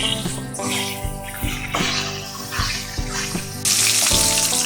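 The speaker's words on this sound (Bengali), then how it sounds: "তেলেই আমি পনিরগুলো ভেজে নেব" Paneer cubes fry in hot oil with a busy, crackling sizzle, close up and moderately loud, punctuated by several light knocks of a spatula against the pan, and the hiss briefly brightens near the end.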